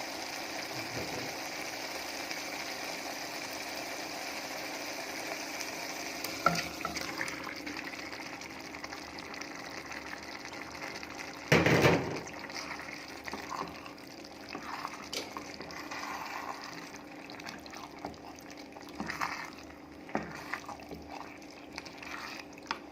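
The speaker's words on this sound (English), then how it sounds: "Now we are going to cook this liver until all the water runs dry" Liver frying in a pan with tomatoes, giving a steady, moderately close sizzle of bubbling liquid that runs throughout, with a brief louder burst near the middle and no talking.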